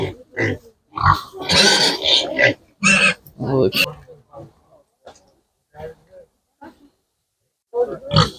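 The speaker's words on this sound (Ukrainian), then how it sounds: "Ще більше свинки такі." Pigs grunt and snort nearby in irregular bursts, mixed with voices talking at a busy market, then quieter gaps.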